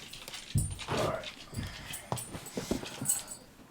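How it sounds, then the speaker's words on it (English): A dog whimpers and whines in a few short bursts indoors, close and moderately loud, with brief rustling between the sounds. "that's my dog."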